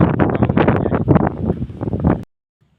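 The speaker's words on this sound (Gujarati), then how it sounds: "અત્યારે ફૂલ વાયડો આવે છે" Strong wind buffets the microphone outdoors beside a lake during heavy weather, a loud continuous rumbling gust that cuts off abruptly near the end.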